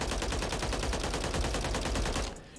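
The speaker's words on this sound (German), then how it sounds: "ich müsste mal einen Test machen, das Magazin durchzuschießen mit der Feuerrate" The Holger 556 rifle in the video game Warzone 3 firing one long, rapid full-auto burst, evenly spaced loud shots for over two seconds before cutting off abruptly.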